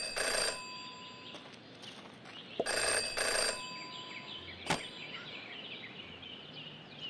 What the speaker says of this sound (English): Jenny had learned never to ignore a ringing phone